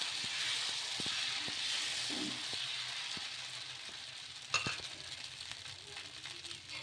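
Tomato dosa batter sizzles steadily on a hot pan over high flame, a continuous frying hiss with small scraping ticks as it is spread, one sharper clink midway.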